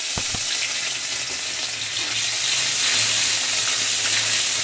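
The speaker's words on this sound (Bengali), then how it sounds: "এই যে বড়িটা ভেজে নেওয়ার পরে এই যে 5 ফোড়ন, শুকনো লঙ্কা, আদা দিলাম তেলে" Panch phoron spices, dry red chilli and ginger sizzling in hot oil in a kadai, a steady close frying hiss with a few crackles at the start, no voices.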